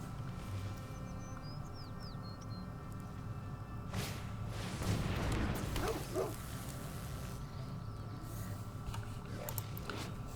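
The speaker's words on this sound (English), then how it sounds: "There's Kellen's dog." Dog barking sound effect in the MTG Arena card game, a few soft yips and barks over a faint steady hum of background music.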